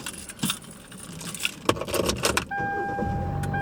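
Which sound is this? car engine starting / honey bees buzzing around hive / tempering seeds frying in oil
car engine starting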